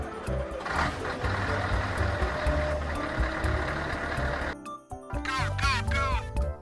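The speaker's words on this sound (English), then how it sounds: "Truck." A truck heard up close on a farm road, with a steady engine rumble and intermittent reversing beeps for several seconds, then a short pause and a brief burst of a child's chatter over continued low vehicle noise.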